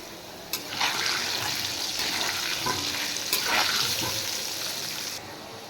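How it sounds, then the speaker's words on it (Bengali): Potato pieces frying in hot oil with salt and turmeric, a loud continuous sizzle swelling with stirring and turning, sharp crackles at the start, then cutting off near the end. "আলু ভাজা হয়ে গেছে"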